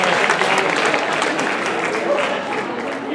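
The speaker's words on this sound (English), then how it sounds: "You guys give yourselves a round of applause" Audience at a hair cutting and coloring seminar claps together in sustained, dense applause, loud and even throughout with no break.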